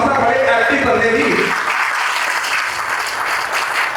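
Audience applause at a church leadership conference: steady, dense clapping that carries on throughout, with a voice speaking over it during the first part.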